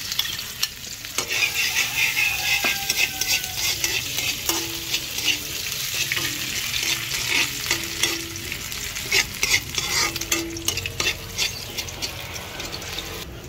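Ginger fries in hot cooking oil, giving a steady crackling sizzle throughout, broken by scattered sharper pops and the scrape of stirring, close up and with no talking.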